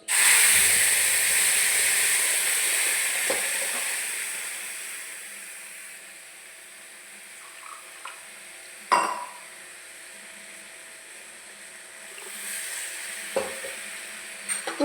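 Onion and coconut chutney hits a hot pan of tempered oil with mustard seeds, dried chillies and curry leaves, giving a loud hiss that fades into a quieter simmer, broken by a few clinks of a spoon against the pan.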